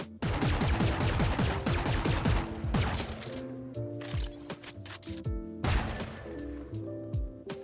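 A Guardian rifle in Valorant fires repeated shots at a Sage wall, producing loud, close single cracks in quick succession, with impact smashes and breaking sounds, alone without talk.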